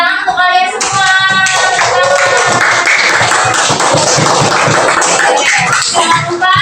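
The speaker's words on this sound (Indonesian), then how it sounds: "Tepuk tangan untuk kalian semua." Schoolchildren in a class clap their hands together, fast bright claps building into a continuous burst, with a voice and the sound of children speaking over the start before the clapping takes over.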